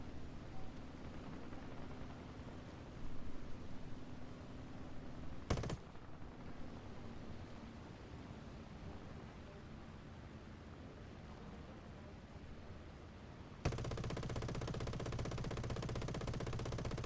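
Aircraft guns firing in the War Thunder air combat game, a steady dense rattle of sustained fire with one sharp burst near the middle and a louder, harsher stretch at the end.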